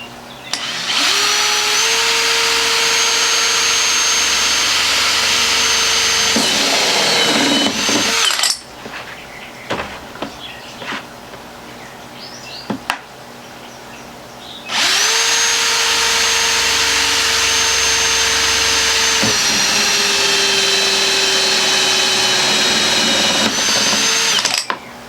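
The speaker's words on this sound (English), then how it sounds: "So let's go ahead and drill our holes here." A power drill whines loudly in two long bursts, pitch dipping as the bit bites into a hydroponic container, separated by a quieter pause with small handling clicks.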